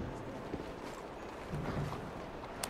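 Horse hooves clip-clop faintly in Assassin's Creed Syndicate, a few soft irregular steps under low ambient game noise.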